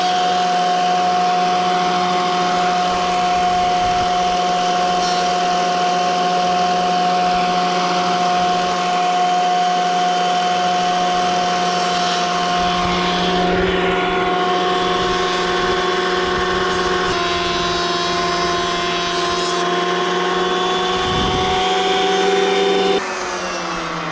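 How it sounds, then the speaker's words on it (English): Thickness planer squaring up wooden boards, a loud continuous motor drone with a steady tonal whine throughout, shifting slightly in pitch as boards feed through, no talk. "So I'm going to pass them through the planer"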